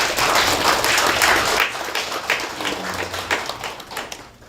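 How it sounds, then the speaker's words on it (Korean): Audience applause for a Jesuit priest at a winter workshop, loud at first, then thinning into scattered claps and fading out within a few seconds. "우리 신부님에게 박수 한번 주시겠어요?"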